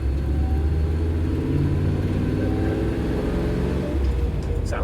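A Land Rover with a V8 engine and a high-ratio gearbox lugs along in third gear, giving a steady, loud low rumble from inside the cabin that surges slightly near the end.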